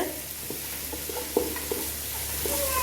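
Vegetables stir-fried in oil with soy sauce for gobi fried rice: a constant close sizzle with a few soft scrapes and taps of the spatula against the pan, and no voices.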